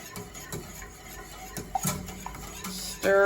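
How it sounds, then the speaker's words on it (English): A spoon stirs Jamaican cornmeal porridge in a hot pot, giving soft scrapes and a few faint clinks against the metal before a brief louder knock at the end. "And you want to stir"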